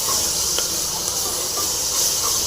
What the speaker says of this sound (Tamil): வெங்காயம் வந்து சீக்கிரமாக ஃப்ரை ஆகிடும்